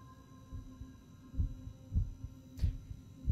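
In The Backrooms video game, a low, muffled heartbeat thumps in a slow, regular rhythm over a faint steady hum, with no talking.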